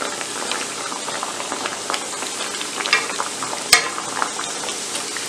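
Fried-rice pizza crusts fry in a small pan, giving a steady dense sizzle with soft crackles throughout and a single sharp clink partway through, close up and with no talking.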